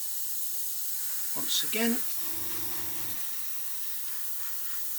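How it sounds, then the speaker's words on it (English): A can of spray paint hisses steadily over a stencil mask, a continuous soft airy spray running throughout while someone speaks briefly partway through. "we'll come in here and spray this one"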